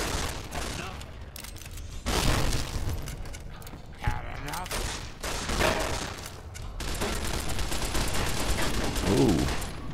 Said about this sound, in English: they're gonna open fire on me first